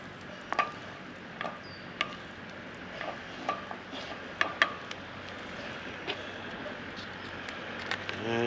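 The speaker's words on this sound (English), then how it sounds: "once I start to see it fry the garlic gently" Garlic frying gently in a pan on an outdoor camp stove, making a soft, steady sizzle with scattered clicks and scrapes from a spatula and pan throughout, with no talking.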